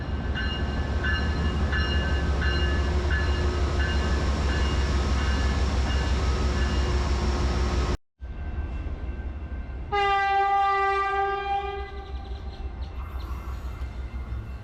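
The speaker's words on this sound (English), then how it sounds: "The train, with engines at each end, arrives on the main line" An Amtrak Texas Eagle passenger train with engines at each end rolls in on the main line at Fort Worth, Texas, with a heavy, loud engine drone, then after a cut its horn sounds in a long blast over the rumbling.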